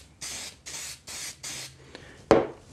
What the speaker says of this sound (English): I'm gonna use a spray accelerant